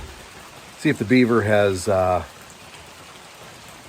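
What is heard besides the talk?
rain falling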